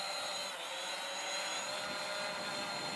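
A Hubsan Zino drone lifts off automatically and flies, a steady high-pitched propeller whine and buzz that holds even and moderately close for a few seconds, with no talking.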